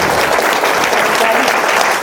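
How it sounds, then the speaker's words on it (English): Wedding reception guests applauding in a hall, a loud, dense, sustained burst of clapping close by, with some voices mixed into the crowd noise. "Another big applause for Adam."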